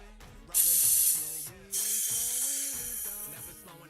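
Satin clear coat sprayed from an aerosol can onto the feet of a painted 3D-printed mouse figure: two loud, steady hissing bursts, the second longer, over quiet background music.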